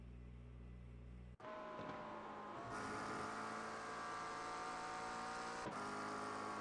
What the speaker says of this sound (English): Love the way this car sounds and how it looks.